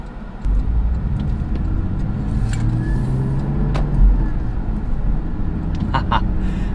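A 2013 Porsche Boxster engine drones steadily from behind while driving, a continuous low rumble with a brief swell partway through and faint background talk.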